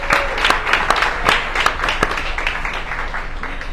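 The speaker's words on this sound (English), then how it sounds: "another round of applause for them" Applause at a live community breakfast event: a moderately sized group claps loudly and unevenly, with a few sharp individual claps standing out as the sound tapers off.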